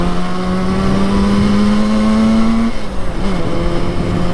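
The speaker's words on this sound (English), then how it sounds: "This is wide open throttle right now." A 1968 Yamaha YL1 Twinjet small-capacity two-stroke motorcycle runs at wide open throttle, a loud, steady buzzing drone that holds its pitch and then dips slightly near the end, heard close with no speech.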